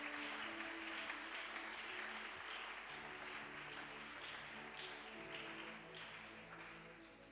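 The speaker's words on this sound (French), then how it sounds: "Acclame encore le Seigneur Jésus-Christ." A church congregation applauding during a French-language sermon, sustained clapping that holds steady and slowly thins toward the end, with a sustained keyboard chord beneath.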